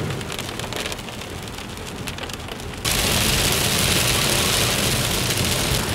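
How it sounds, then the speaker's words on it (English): Rain pours down outdoors in a steady, dense hiss, jumping suddenly louder and heavier halfway through as the downpour intensifies, with no voices. "In case you guys aren't familiar with it, that's rain."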